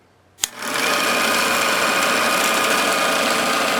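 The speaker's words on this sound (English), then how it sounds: "I got to first turn the motor on." A 1946 Victor model 40B film projector clicks on and its motor spins up into a steady, close, whirring mechanical hum that stays constant.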